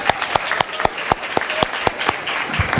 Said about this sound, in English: let's give a round of applause for the College of Pharmacy for putting this on